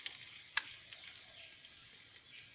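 Chopped onions fry in hot oil with a faint, even sizzle, broken once by a brief sharp crackle, quiet and close with no voices.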